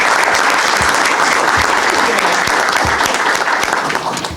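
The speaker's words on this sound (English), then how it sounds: "Let's give the council president a round of applause." Strong, steady applause from an audience at a city detective swearing-in ceremony, greeting the council president with full, close clapping that stays even and then thins out at the very end.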